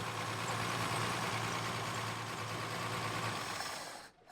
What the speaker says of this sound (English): So even though our idle sounds pretty good